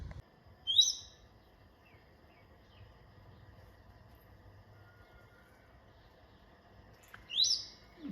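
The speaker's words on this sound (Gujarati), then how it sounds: "ચકલી કેવી બોલે છે." A sparrow gives two short, bright chirps near a home, one early and one near the end, separated by a long stretch of near silence with only a faint low background hum.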